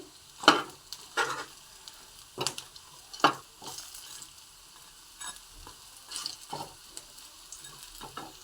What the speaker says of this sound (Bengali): এখানে আমি ধনে পাতার বড়াটা ভাজতে বসিয়েছি